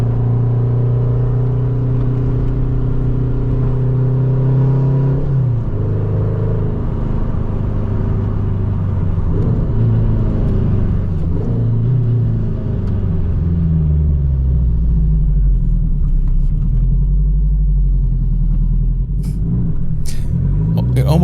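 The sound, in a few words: car engine, scootery sound like a Subaru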